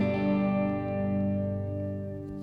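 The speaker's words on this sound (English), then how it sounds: "It's a Strymon Blue Sky. I keep the true bypass side on. It's just a standard reverb." Electric guitar played through a Strymon Blue Sky reverb pedal, a sustained chord ringing out with a smooth, subtle reverb tail, steady and fairly loud, with no talking.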